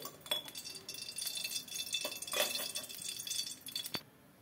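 Mustard oil poured into a pan for a fish curry, giving soft dripping and trickling with a few faint clinks, fairly quiet and close, ending abruptly near the close.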